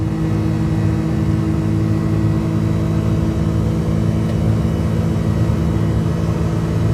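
Daihatsu Midget II tiny 1.5-seater engine droning steadily as it gains speed on the road, a loud continuous buzzing hum from inside the cab without talk.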